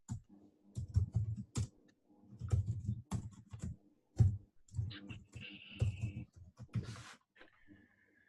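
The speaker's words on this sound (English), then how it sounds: "So let me just type this." A computer keyboard being typed on in irregular bursts of close, soft key clicks with short pauses between them.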